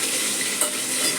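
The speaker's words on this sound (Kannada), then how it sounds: "ಎಣ್ಣೆ ಕಾದಿದೆ, ಯಾವ ರೀತಿ ಸಿಡಿಯುತ್ತೆ, ಚಟ ಅಂತ ಸಿಡಿಯುತ್ತೆ" Hot oil spluttering in a pan, a dense, loud crackling sizzle heard close up, steady throughout with one brief sharper pop, no talk.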